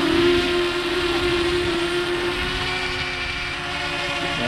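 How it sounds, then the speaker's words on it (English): A DJI Mavic Mini drone in flight gives off a steady, fairly loud tonal whine from its propellers, holding an even pitch over a broad airy hum. "this is my drone, everyone."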